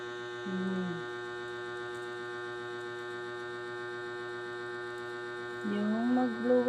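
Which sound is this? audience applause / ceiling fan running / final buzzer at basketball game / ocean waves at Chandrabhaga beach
ceiling fan running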